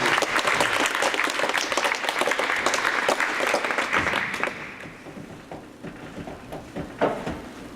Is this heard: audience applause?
yes